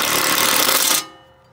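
Impact wrench driving bolts on a Craftsman T2400 mower deck, one loud rapid hammering burst of about a second that stops abruptly, close by.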